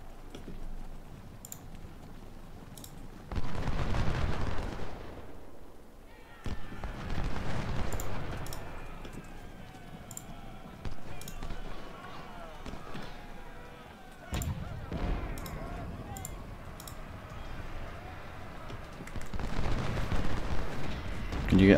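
Musket gunfire and artillery booms from a Civil War battle at Second Bull Run in Ultimate General: Civil War, several heavy rumbling volleys and sharp cracks spaced across the battle, with someone talking over them.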